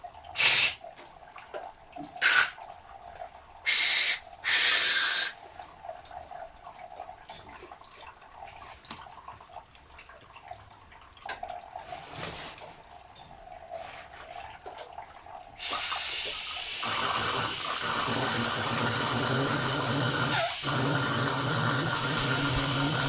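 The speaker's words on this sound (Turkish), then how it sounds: "Arka giriş tarafından suyu içine verip çıkış tarafından çıkartacağız arkadaşlar" Water running through a new 200-bar pressure washer, first intermittent bursts and trickles with handling noise, then a loud continuous rush of flowing water through the final stretch.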